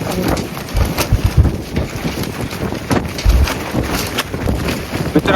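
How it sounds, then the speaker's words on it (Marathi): Strong wind buffeting the microphone on the summit of Kalsubai peak in Maharashtra, at 5,400 feet, loud gusty roaring and low rumbling thumps that surge and ease continuously. "एवढं जोरात वारा आहे, त्यामुळे सर्वजण पांघरू पाहून गेले, कारण खूप जोरात वारा आहे."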